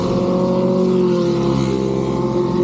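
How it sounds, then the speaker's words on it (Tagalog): Big motorcycles passing on a road near Marilaki, heard as a steady loud engine drone and roar that holds throughout, close by with no talking. "Ayun na, may mga malalaking motor."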